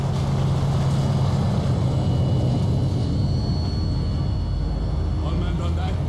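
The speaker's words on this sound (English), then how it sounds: "Vehicle's approaching." A vehicle approaches in the video game Call of Duty: Modern Warfare as a loud, steady low engine rumble with a rising mechanical drone, while voices talk over it.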